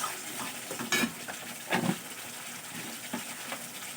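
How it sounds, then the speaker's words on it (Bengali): Masala for a shingi fish curry is stir-fried in a pan, with a steady close sizzle broken by a few louder scrapes and stirs of the spoon. "সব কিছু একসঙ্গে খুব ভালো করে কষিয়ে নেব।"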